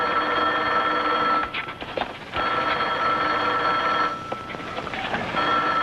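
A telephone bell rings loudly and close by in sustained, insistent peals, with brief dips between rings and faint background clatter.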